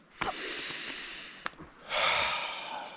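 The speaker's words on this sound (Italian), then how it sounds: "2-3 respiri forti e si va avanti." Two or three strong, deep breaths are taken close up, with sharp snorting inhales and a long forceful exhale near the end.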